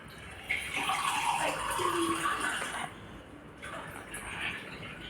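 Water pours into a glass in a steady stream for a couple of seconds, close by, then fades to a quieter trickle and room noise.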